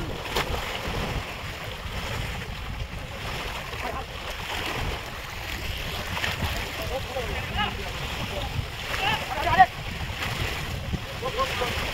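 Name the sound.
fishing boat sliding into sea water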